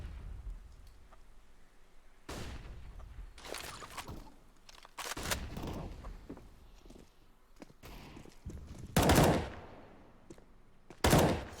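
Sharp gunshots in a competitive first-person shooter match, scattered single bursts and loud cracks separated by quieter pauses, with a couple of especially strong shots near the end and no talking.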